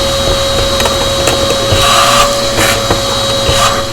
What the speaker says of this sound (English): Now we are going to vacuum it one more time.